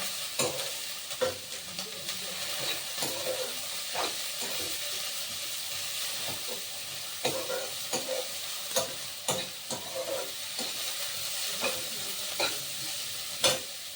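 Vegetables being sautéed in a pan for dosa batter, a soft steady sizzle with scattered sharp clinks and scrapes of a spatula stirring, close and quiet with no talk.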